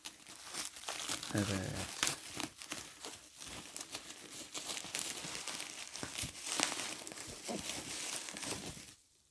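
Plastic packaging on a boxed Performax-G Xargon mechanical RGB keyboard with red switches being opened, steady close crinkling and rustling for several seconds, with a brief spoken word.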